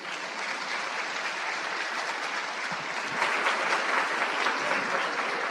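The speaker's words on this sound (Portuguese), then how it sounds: "eu queria pedir uma belíssima salva de palmas para aparecer na gravação" An audience at a recorded panel discussion gives a sustained round of applause, an even, crowded patter of clapping that swells slightly louder past the midpoint and continues without speech.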